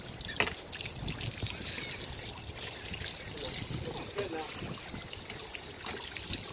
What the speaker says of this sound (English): Pump some water for her.